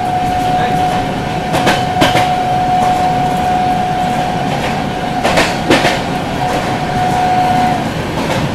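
A Chennai Garib Rath train with new LHB coaches rolls past the Samta Express, giving a loud, continuous rumble and rhythmic clatter of wheels over rail joints with a faint high whine running through it.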